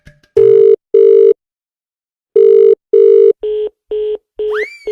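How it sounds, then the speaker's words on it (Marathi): Push-button phone dialing tones ring out loud and alone: two long beeps, a pause, two more, then four shorter beeps and a rising chirp at the end. "फोन लावा त्याला मी"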